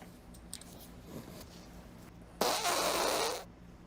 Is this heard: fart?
yes